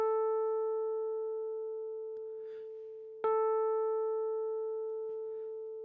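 An electronic piano voice in music notation software plays two long held notes of the same pitch, each struck cleanly and left to ring and slowly fade, with nothing else heard.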